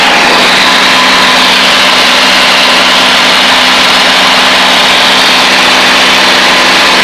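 A light aircraft engine throttled back to cruise power at about 3,500 feet drones loudly and steadily, a continuous close cabin roar with no talk over it.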